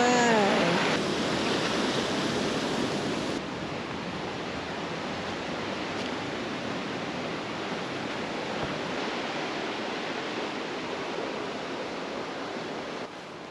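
River water flowing steadily on abandoned rural land in Portugal, a broad even rushing wash heard nearby without break, with a brief chirp at the very start and no talk.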